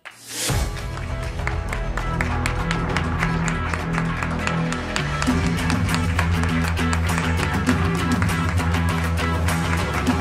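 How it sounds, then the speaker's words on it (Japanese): An audience at a Japanese business conference claps to welcome a speaker, producing dense, sustained applause for about ten seconds with some voices underneath. "皆様盛大な拍手でお迎えください"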